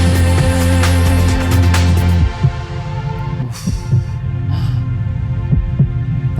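A slow heartbeat thump runs through a smooth pop production in a Madonna song, the deep double pulses pushing through a sustained low synth hum that drops away partway, then beating on under soft musical texture.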